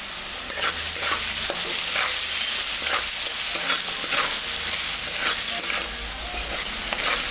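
Capsicum and carrot with salt, turmeric and green chillies fry in a pan, a loud continuous sizzle broken by rhythmic scraping strokes of a spatula stirring, close up with no voices.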